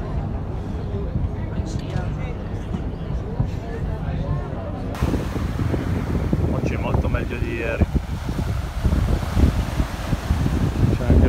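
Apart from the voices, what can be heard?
wind blowing from land at the seaside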